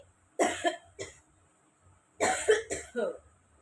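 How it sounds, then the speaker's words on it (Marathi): A person coughing in two clusters, a few harsh, close coughs, a pause, then another run of three or four coughs, in an otherwise quiet room. "खोकला सर्दी"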